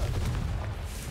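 A Confringo explosive spell goes off in the video game Hogwarts Legacy, giving a deep, booming blast with a rumbling low-end tail that fills the short moment, with no speech.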